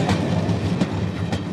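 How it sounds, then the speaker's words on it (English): British Rail service trains roll along the line at night during electrification work, with a steady rumble and rhythmic clickety-clack of wheels over rail joints, fairly close. "the work must pause while the service trains move into position"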